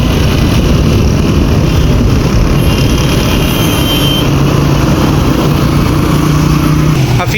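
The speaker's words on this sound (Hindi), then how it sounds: "मैंने येंगो की बाइक मंगवाई है, उसमें चलते हैं हफीज़ सेंटर।" A Yango ride-hailing motorbike carries riders through Faisalabad toward Hafeez Centre, a loud, steady engine drone mixed with rushing wind noise that continues unbroken the whole time.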